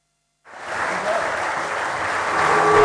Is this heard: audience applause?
yes